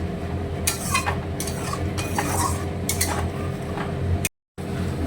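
Curd masala with kasuri methi being sautéed in a pan over a low flame, with close, irregular scraping strokes and soft clatter of a spoon against the pan over a low steady hiss.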